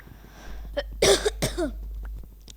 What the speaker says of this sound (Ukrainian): Трохи кашлюю